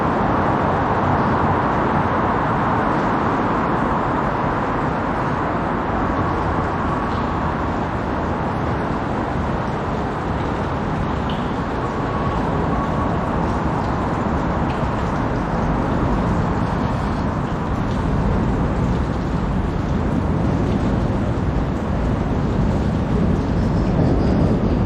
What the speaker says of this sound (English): Trains above us.